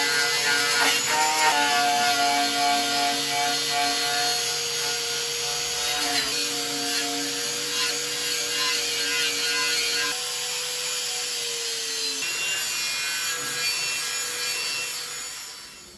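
A metal rear subframe is cleaned with abrasive tools, producing a loud, continuous, close grinding and rubbing whine with shifting tones and a few brief changes in pitch, with no talking.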